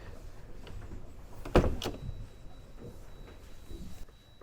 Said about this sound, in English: Kind of sliding doors, don't slide very well apparently